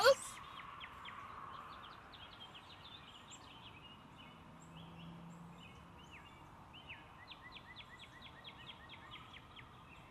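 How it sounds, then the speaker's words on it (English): Several birds call and chirp outdoors in upstate New York in short repeated bursts over a quiet background, fairly distant and soft. "The sounds of the birds is just so healing."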